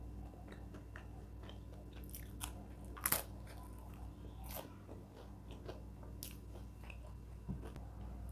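Bites into a flaky cranberry cromboloni pastry followed by chewing, close and quiet, with soft crunches and a few sharper crackles over a low steady background hum.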